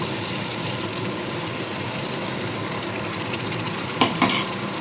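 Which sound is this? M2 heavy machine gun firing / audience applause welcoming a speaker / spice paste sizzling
spice paste sizzling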